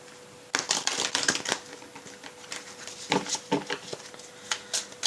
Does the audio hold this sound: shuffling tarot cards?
yes